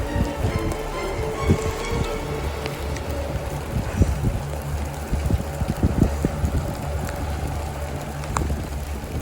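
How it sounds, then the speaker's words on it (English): Hail pelting down on a golf course during a hailstorm, a dense, steady patter of sharp impacts with scattered louder knocks, mixed with wind noise and no talking. "It's hailing like crazy."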